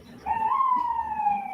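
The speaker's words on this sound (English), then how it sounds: "gotta wait for the sirens." An emergency vehicle siren rises, then holds a steady wailing tone, heard alone at moderate loudness for a second or so.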